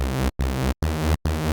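A buzzy, detuned saw synth pitched two octaves down plays three held notes with short gaps between them, loud and bright.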